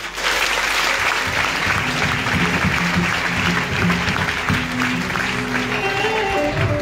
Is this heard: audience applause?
yes